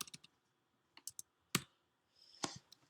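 Faint, sparse keystrokes on a computer keyboard come in a few small clusters of clicks with quiet gaps between them, heard alone without talk.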